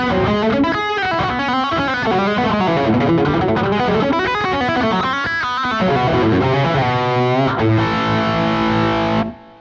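Electric guitar played through a Boss Waza Tube Amp Expander's 4x12 Rectifier cabinet simulation, giving a dark, distorted tone; a busy phrase of chords and single notes rings out loud and continuous for nearly ten seconds before stopping abruptly.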